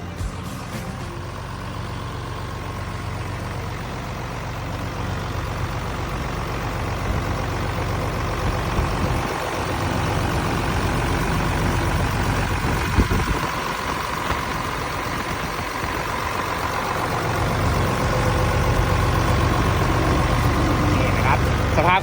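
A Hitachi CG110D-D dump truck's diesel engine idles steadily and fairly close, a low rumbling drone that holds constant throughout with no talking.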